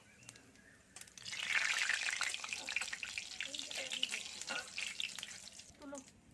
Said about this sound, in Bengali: একটা শুকনো লঙ্কা দিয়ে দিচ্ছি এখানে দুটো লবঙ্গ একটু দারচিনি আর এক দুটো এলাচ দিয়ে দিলাম আর একটু জিরে দিয়ে দিচ্ছি এগুলো আমি একটু ভেজে নেবো